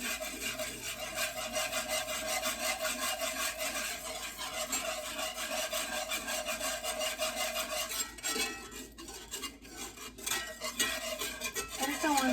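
A spoon scrapes the pan steadily while Swedish meatball gravy is stirred, a close, continuous rasping rub that becomes choppier and more broken near the end.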